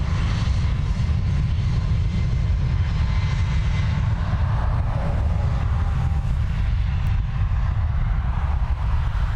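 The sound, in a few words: Airbus A321 aircraft at Dublin Airport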